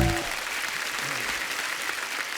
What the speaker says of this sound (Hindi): राज साहब के लिए जोरदार तालियां होनी चाहिए यार